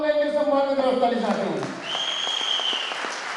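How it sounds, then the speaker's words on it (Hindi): Audience applause breaks out at a business leadership event in honour of women achievers, a brief burst of clapping after a man's amplified speech, with tonal sound trailing beneath. "एक बार और चाहूंगा इनके सम्मान में तरफ ताली"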